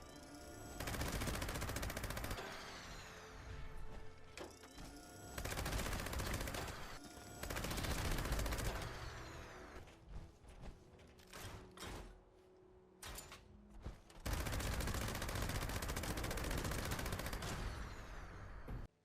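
Gas minigun firing in Fallout 76, a vampire legendary with faster fire rate and reduced weight, in long sustained bursts separated by short pauses, loud and close, with no talking.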